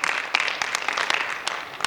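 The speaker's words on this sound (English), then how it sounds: "Can I have a round of applause, please?" Applause from an audience at a donation ceremony for medical equipment, moderately loud and fairly sparse, with separate claps audible through a steady patter for about two seconds.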